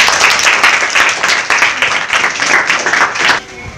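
A crowd claps steadily for a few seconds, loud and close, the applause stopping abruptly near the end.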